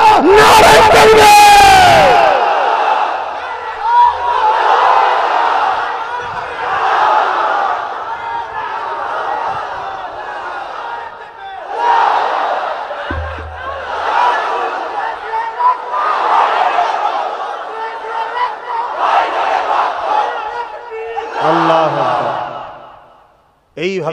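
A large crowd at a religious gathering chants the takbir in loud, rhythmic shouted waves, repeated several times in response to a leader's call.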